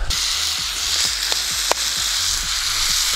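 Steady, loud sizzling and crackling of tomatoes with oregano frying in a pan, with a few soft clicks and pops over the continuous hiss.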